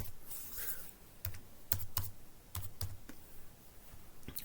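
Someone types on a computer keyboard while saving an HTML file, with sharp, distinct keystrokes at uneven intervals over a faint background hiss.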